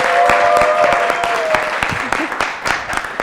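A studio audience applauds to welcome a guest on a talk show, a steady wash of clapping at full volume with sharp individual claps standing out, while a voice briefly speaks over it early on.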